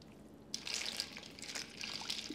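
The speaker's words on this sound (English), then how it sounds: "we're going to strain it into the sink, into a colander" Cooked macaroni poured into a colander in a kitchen sink, a sudden rush of water splashing and draining steadily, fairly close with no talking.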